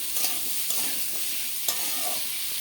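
Potatoes sizzle steadily in hot oil in a pan, a dense continuous frying hiss with a few stirring scrapes, close and alone without talk.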